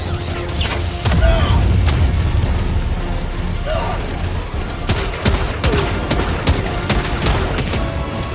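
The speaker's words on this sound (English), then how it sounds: "Orbital inbound! Firing orbital barrage." Orbital barrage strikes in the Helldivers video game land as a heavy run of booming explosions and sharp blasts over several seconds, with voices partly audible among the impacts.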